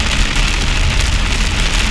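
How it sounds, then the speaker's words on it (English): Heavy rain drums steadily on a car windscreen during a storm, a dense, continuous loud patter with low rumble underneath and no pauses. "you can hear from the noise, that's the rain on the windscreen"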